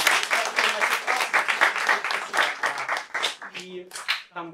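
Audience applause at a rhythm-section music masterclass, a dense run of many hands clapping that fades out toward the end, with speech mixed in.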